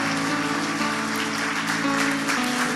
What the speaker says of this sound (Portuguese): Pode aplaudir o nome do Senhor.